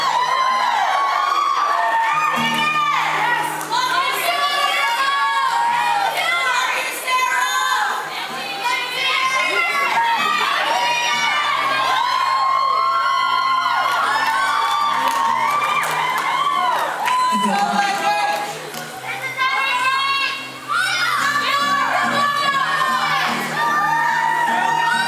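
A concert crowd at Lakewood Auditorium in Cleveland screams, whoops and cheers for a song at a show, a loud, sustained roar of many high voices that stays dense throughout.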